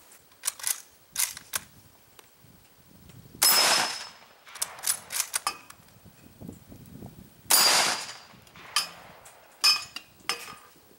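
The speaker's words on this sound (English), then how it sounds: "And a couple more Mosin rounds up close and personal." Mosin rifle rounds fired at close range strike a 10-inch AR500 steel gong, each sharp crack followed by a ringing metallic clang, about ten impacts spaced irregularly with no talk.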